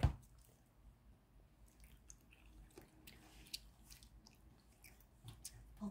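Someone close by bites and chews a small piece of homegrown bell pepper from a rooftop garden, with soft wet squishing crunches spread through a quiet room and no talk.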